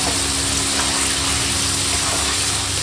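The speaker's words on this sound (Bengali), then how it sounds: "দিয়ে দিলাম শুকনো লঙ্কার গুঁড়ো, আর দেবো হলদি গুঁড়ো, দিয়ে এখন কষাবো।" Chicken with salt, Kashmiri chilli, dry chilli and turmeric powder sizzles steadily in a hot pan as it is sautéed, a dense continuous frying hiss close up with no talk.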